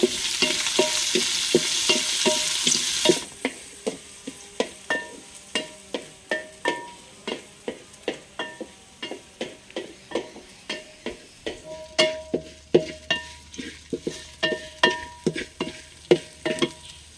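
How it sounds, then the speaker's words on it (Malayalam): Shallots and green chillies sautéing in a pan: a burst of hissing sizzle at first, then a long run of rhythmic clicking scrapes of a spatula stirring over a quieter fry. "അടുത്തതിലേക്ക് ചെറിയ ഉള്ളി പച്ചമുളക് നന്നായിട്ടൊന്ന് വഴറ്റി കൊടുക്കുക"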